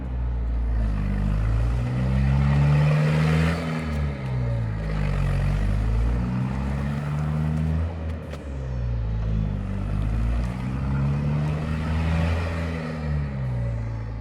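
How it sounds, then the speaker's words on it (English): A hybrid ATV's diesel generator is working harder under load while the vehicle steers, giving a steady, loud engine drone whose pitch rises and falls in slow waves, close by with no speech. "when I turn the steering wheel, generator starts working more intensively to provide more power for the motors"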